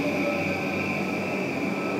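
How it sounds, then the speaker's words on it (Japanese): Rapid train arriving at Akihabara Station in Tokyo, a steady rumbling roar of rolling wheels with a faint high squeal, heard from the platform. "The rapid train will arrive shortly."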